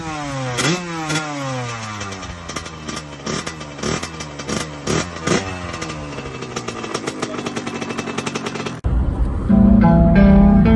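A 1991 Kawasaki KX80 dirt bike fires up from fully cold, its small two-stroke engine popping and revving in rapid, uneven bursts at close range before settling into a steady high idle.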